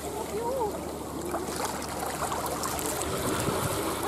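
Sea water washing onto a beach shore in Tenerife, a steady broadband wash with gurgling trickles, moderately close and continuous, with faint voices in the background.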